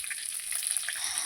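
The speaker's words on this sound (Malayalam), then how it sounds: "സവാളയും പച്ചമുളകും കറിവേപ്പിൻ്റെ ഇലയൊക്കെ ഇട്ടൊന്ന് നല്ലോണം വഴറ്റിയിട്ടുണ്ട്" Onions, green chilies and curry leaves sautéing in a pan, giving a soft, steady sizzle that is close but faint and continuous, with no voices.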